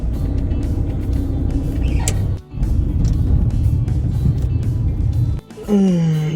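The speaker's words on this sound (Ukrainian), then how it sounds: "Реально вже годину, мабуть, ще їду по цих пробках" Inside a car crawling through heavy Kyiv traffic jams, a steady low engine and road rumble runs continuously with brief dips, and a high whining tone swells near the end.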